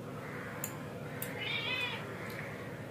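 A cat gives a single high meow, fairly close but soft, over a steady low background hum in a home kitchen where goat mutton is being eaten, with a couple of faint clicks nearby.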